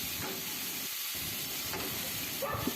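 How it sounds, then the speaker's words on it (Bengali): Steady hissing sizzle of vegetables frying with nigella seeds in a hot pan, continuous and fairly close, with a faint stir near the end. "এবার এটাকে আমি কিন্তু একটু ভালো করে ভেজে নেব"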